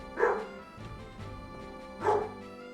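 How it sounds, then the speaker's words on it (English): A dog outside barks twice, a short bow-wow near the start and another about two seconds later, moderately loud with a quieter pause between. "another dog outside"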